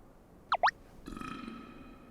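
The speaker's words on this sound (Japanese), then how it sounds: "げっぷをする。" A single burp, the belching sound in a Japanese vocabulary lesson, comes as a rough, rumbling stretch after two quick high chirps. It is fairly faint and close, with no talking.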